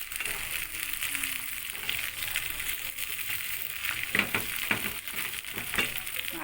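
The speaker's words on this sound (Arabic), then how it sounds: "هتشوفوها بقى وهي بتتطشطش كده وبتدي الطشطه العجيبه بتاعتنا بتاعت الملوخيه" Molokhia tasha of garlic in butter or ghee sizzling and frying in a pan, a steady bright hiss with crackling spits and a few louder pops toward the end, fairly quiet and close.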